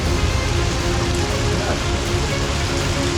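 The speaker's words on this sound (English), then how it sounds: "Oh, it's straight up hailing." Hail falling hard during a motorcycle ride, a dense, loud, steady hiss of pelting ice hitting surfaces all around, continuous and unbroken with no pauses.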